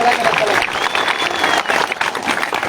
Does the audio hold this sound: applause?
yes